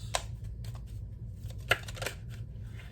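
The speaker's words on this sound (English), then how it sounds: "2 more shuffles." A deck of cards is shuffled during a tarot reading, with soft riffling and a few sharp snaps over a low background hum.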